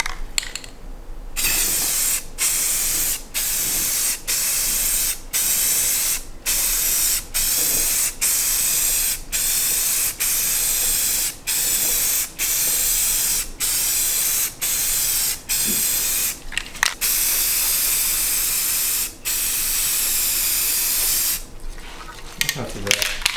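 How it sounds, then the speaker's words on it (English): An aerosol can sprays green coats onto a go kart, a loud continuous hiss broken by many brief gaps as the nozzle is released and pressed again, close to the microphone. "take the green and start spraying a few coats on"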